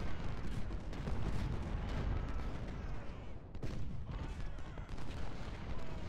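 Cannon fire from Civil War artillery in the game Ultimate General: Civil War, a continuous rumble of booming blasts with several sharper reports spaced through it, dense and mid-distance, with no speech.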